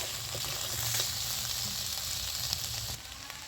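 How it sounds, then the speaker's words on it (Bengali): Potato and eggplant stir-frying in a pan with salt and turmeric, a dense continuous sizzle with faint stirring scrapes, dropping slightly in level near the end. "হলুদ, নুন আর হলুদটা আমি ভালো করে মিশিয়ে 2 মিনিটের মতো কষিয়ে নেব।"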